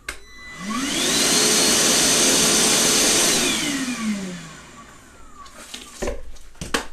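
A FLEX vacuum motor spins up to a loud, steady whine, holds it, then winds down through a falling tone, followed by a few clatters and knocks, with no one speaking.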